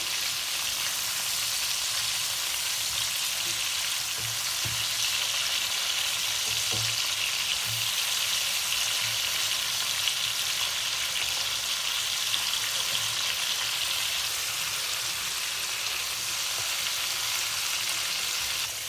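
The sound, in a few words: murrel fish pieces frying in oil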